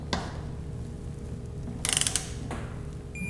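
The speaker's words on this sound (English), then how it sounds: "We want to torque those down, 13 Newton meter pounds" A torque wrench tightens bolts on a Honda transmission during a rebuild, giving a short burst of close ratchet clicks plus a couple of isolated clicks over a quiet room.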